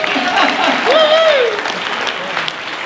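A crowd at a chamber of commerce ball applauds warmly, clapping densely for a few seconds while a voice speaks over it.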